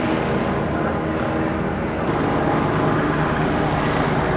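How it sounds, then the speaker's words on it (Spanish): A continuous broad roar of helicopters overhead in Mexico after an earthquake, steady and fairly loud throughout, with no talking. "Pero hay helicópteros, ¿eh? Sí, por todos lados."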